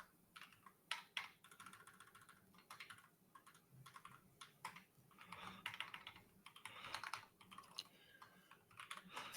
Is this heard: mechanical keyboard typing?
yes